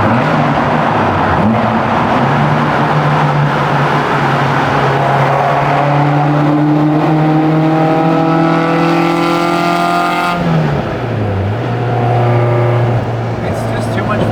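A Toyota AE86 engine winds up hard under full throttle on a night drive through Yokohama toward Daikoku PA, the pitch climbing steadily through the gears before dropping on a shift and rising again, loud from inside the car.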